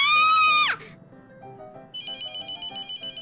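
A video game telephone rings with a loud electronic trill that sweeps down and cuts off, followed by a repeating beeping ringtone pulse, with a soft melody playing underneath.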